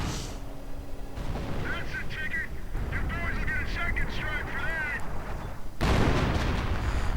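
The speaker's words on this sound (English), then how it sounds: "Germans getting bombarded with artillery" Artillery bombardment in the Company of Heroes strategy game, with rumbling booms and blasts under a steady dense din of battle, plus a voice talking through part of it.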